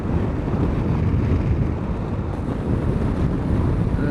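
Strong, steady wind buffets the microphone as a Sym Joyride 300 scooter rides along a road, a dense low roar that stays constant throughout without any voices.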